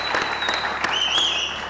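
A studio audience bursts into applause, dense steady clapping filling the room for a short stretch, loud and close, with a faint voice and a whistle-like tone rising over the noise.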